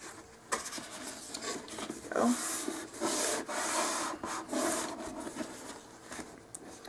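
A wooden craft stick spreads glue across a surface while building a dollhouse miniature corner roombox, giving soft, uneven rubbing and scraping strokes close up, with a brief spoken remark partway through.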